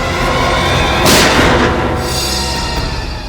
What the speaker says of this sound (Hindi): गोली चलने की आवाज इस तरफ से आई।